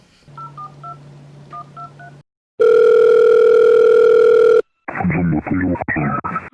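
A phone is dialed with a run of quick keypad tones, followed by a steady dial tone and then a burst of ringing or line noise.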